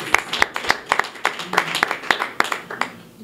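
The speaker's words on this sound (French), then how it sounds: "Nous allons applaudir pour lui." Audience clapping at a music concert honouring a francophone songwriter in the DRC, sharp claps arriving in a loose, thin rhythm rather than a full ovation, fairly close with some background murmur.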